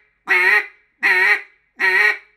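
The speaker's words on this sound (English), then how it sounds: "And that gives you those sharp quacks." Three sharp, nasal quacks from a duck call, evenly spaced about a second apart, loud and close with silence between them.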